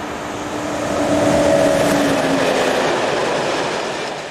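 A single-voltage Class 1016 electric locomotive hauls a train north past a level crossing, a loud, steady rolling roar with faint wheel clatter and a rising then fading passing swell.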